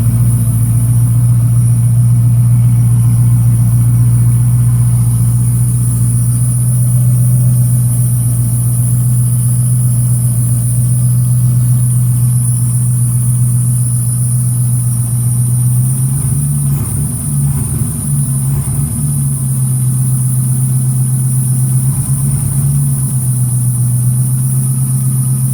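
A car engine fitted with FiTech fuel injection idles with a loud, steady hum, then its pitch rises in a few short revs toward the end.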